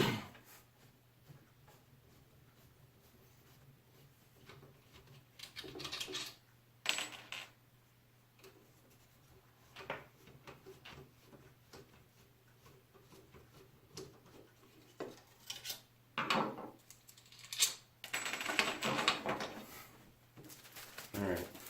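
Small metal screws and washers for a PC radiator clink and rattle as they are sorted by hand on a hard surface, in scattered short bursts of light tapping and sliding, with quiet gaps between handling sounds.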